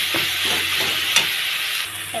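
Jackfruit, spinach and prawns sauté in a hot pan with salt and turmeric, a loud steady close sizzle with a few scraping stirs of a spatula and no talk.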